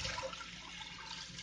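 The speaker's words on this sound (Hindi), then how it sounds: "पानी डाल देना है" Water pours from a vessel into a pan set on a stove flame while cooking harissa, a soft, steady splashing rush at low level with no talking.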